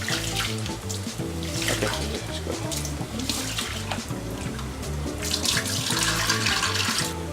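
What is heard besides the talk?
water running while washing rice and pulses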